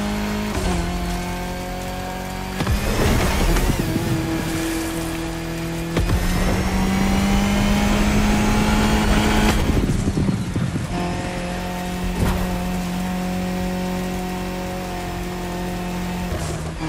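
Porsche 911 Turbo 3.6 sports car racing in The Crew Motorfest video game, its engine droning loudly and steadily with rising and falling revs and gear changes across the run, with rain-like noise underneath and no talk.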